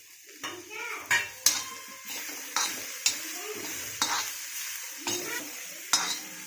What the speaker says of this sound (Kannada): 1 ರಿಂದ 2 ನಿಮಿಷ ಸ್ವಲ್ಪ ಫ್ರೈ ಆಗಲು ಬಿಡಿ.